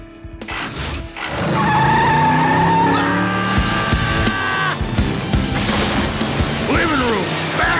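A cartoon car races through a house with revving engine, screeching skids and crashing impacts, loud and busy, with a voice mixed in.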